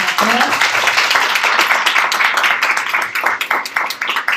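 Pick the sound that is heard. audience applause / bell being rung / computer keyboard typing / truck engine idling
audience applause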